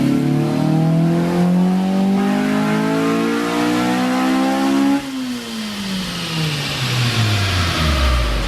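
A 2000 Honda Civic Si with a swapped B18C engine and adjusted VTEC revs hard, pitch climbing steadily, then dropping and rising again in a second loud, close pull.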